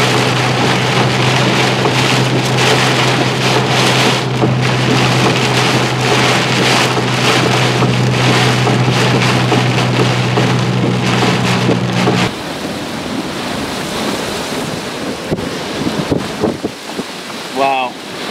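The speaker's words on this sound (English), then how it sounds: "Really crazy wind and rain here though." Heavy rain and strong gusting wind pound a vehicle on a freeway during a tornado-warned storm in Ohio, a loud constant roar over a low engine hum that later drops away, with a voice speaking briefly under the din.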